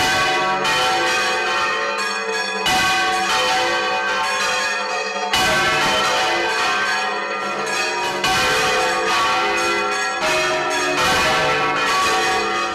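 Church bells peal from the bell tower in Moixent during the town's patron saint festivities, a loud, continuous ringing of several overlapping bells with rich resonant tones, steady throughout with a brief gap and renewed strikes.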